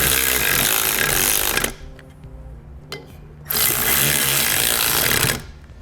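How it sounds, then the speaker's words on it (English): A 9/16 socket driven by a power tool runs 3/8 flange nuts down onto studs on a 2016 Ford F-150 air spring bracket, making two loud sustained whirring bursts with a short quiet gap and a brief click between them. "Come back using a 9/16 socket, and I'm going to tighten down our nuts just so they meet the top of our bracket."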